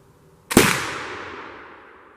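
A single loud flintlock rifle shot in the woods, a sharp blast with a long decaying echo rolling away over about two seconds, with no voices.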